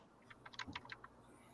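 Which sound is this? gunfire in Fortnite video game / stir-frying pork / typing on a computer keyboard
typing on a computer keyboard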